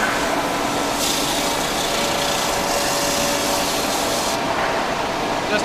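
Fret ends on a Fender guitar neck being bevelled at a custom shop workbench, a steady abrasive filing rasp running continuously at close range, with no talk over it.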